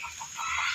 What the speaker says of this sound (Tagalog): putak ng putak yung mga hin dyan,